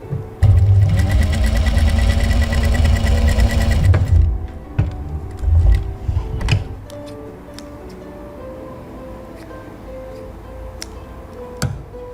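Sewing machine stitching patchwork triangles, running in a loud fast whir for about four seconds, then stopping, followed by scattered light clicks and handling of fabric nearby.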